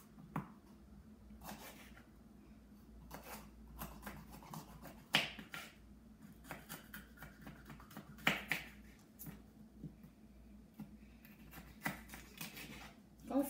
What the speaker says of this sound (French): je prends le poivron vert que je vais aussi couper en lanières